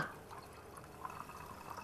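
Water is poured into a mahali root pickle mixture that will be served with curd rice, giving a faint, quiet trickle with a few soft drips.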